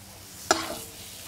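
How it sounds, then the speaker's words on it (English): Duck pieces stirred and coated in masala mixture in a hot pan, a single sharp scrape of a utensil followed by a soft sizzle, close and without talk. "now we're just gonna coat the duck in our beautiful masala mixture"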